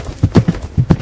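A horse at a stable walks with hooves clip-clopping close by, a series of distinct, uneven thuds about every tenth of a second, loud and with no talk over them.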